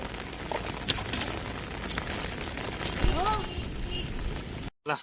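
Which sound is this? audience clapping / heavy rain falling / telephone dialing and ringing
heavy rain falling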